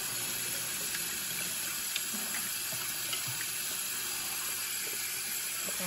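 Water runs steadily from a tap in a soft, continuous hiss, with a few faint clinks in the background and no voices.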